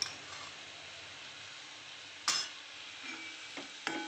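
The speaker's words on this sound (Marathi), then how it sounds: "त्याला मिक्स करून घेऊ छान" Spicy cabbage dal being mixed in a pan, a faint low sizzle with a few sharp spoon knocks against the metal near the end.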